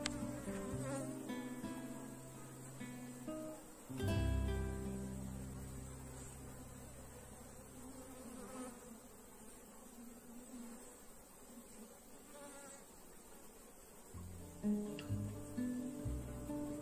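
A swarm of bees hums densely around an open hive that a beekeeper is splitting in half to raise new queens. The buzzing is close and continuous, with thumps of handling and swells of louder buzzing.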